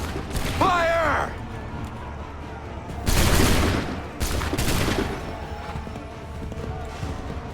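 Musket volleys in Assassin's Creed 3, each a broad crackling burst of many shots fired together, heard twice in close succession, with a shouted command and a horse's hooves around them.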